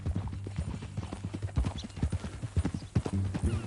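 Horse hooves clip-clop in Red Dead Redemption 2, a steady close rhythm of hoofbeats with a brief whinny-like sound, lightly mixed with faint game ambience.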